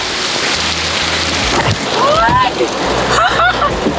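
Heavy rain pours down steadily and loudly, with splashes and a faint rumble. Brief voices and chirpy tones come through over the downpour.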